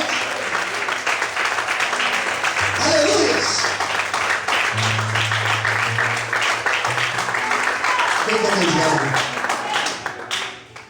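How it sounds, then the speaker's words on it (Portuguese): A church congregation applauds during a Portuguese-language sermon, loud continuous clapping filling the space for about ten seconds, with a voice calling out and some sung or held tones underneath before it fades. "Todos podem aplaudir e glorificar o Senhor de fé."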